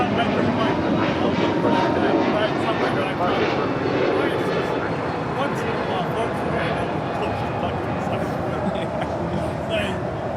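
A Spirit Airlines Airbus A321neo departs from LAX, its jet engines producing a loud, continuous broadband roar that holds steady throughout.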